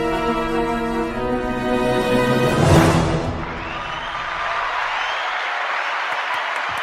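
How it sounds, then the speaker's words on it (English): Soft, low applause follows a swelling musical chord, a gentle steady patter of hands that carries on quietly for several seconds after the music fades. "A very low applause"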